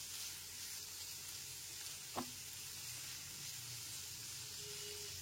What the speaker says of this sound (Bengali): গাজর, বিনস আর ক্যাপসিকাম কুচিগুলোকে গ্যাসের ফ্লেমটা লো টু মিডিয়ামে রেখে ভেজে নিতে হবে